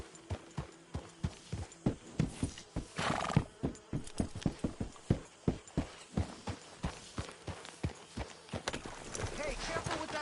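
A horse in Red Dead Redemption 2 trots with steady, close clip-clopping hooves, and a whinny breaks in partway through, while faint ambient outdoor sound continues underneath.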